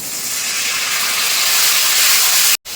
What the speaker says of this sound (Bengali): দিয়ে দেবো সামান্য পরিমাণ জল যাতে গুঁড়ো মশলাগুলো পুড়ে না যায়